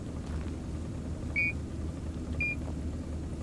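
Two short electronic beeps sound about a second apart in the Mine Mogul video game as a part is placed, faint against a steady low background hum.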